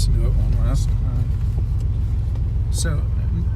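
An air-cooled Porsche 964, about thirty years old, idles with a deep steady rumble close by, broken by brief mechanical ticks and a voice speaking over it.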